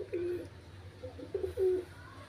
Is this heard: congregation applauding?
no